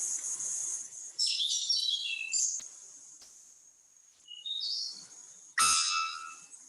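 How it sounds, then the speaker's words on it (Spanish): A bellbird, recorded on a mobile phone in the Monteverde area of Costa Rica, gives loud, piercing, metallic calls and whistles in several bursts over a constant high insect-like drone, with one sharp, sudden, explosive note near the end. "Por ahí hay uno de un pájaro campana, que de hecho se lo grabé con el celular."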